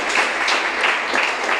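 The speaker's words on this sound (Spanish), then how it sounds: "¿No van a aplaudir por eso?" A church congregation applauds during a sermon on the resurrection, a brief burst of dense, even clapping filling the room without any voices.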